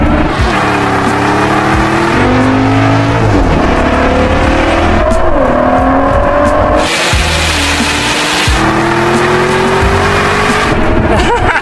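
Three generations of Ford GT supercars go head-to-head in a drag race, with loud engines revving and climbing through gear changes in repeated rising sweeps, close and dominant throughout.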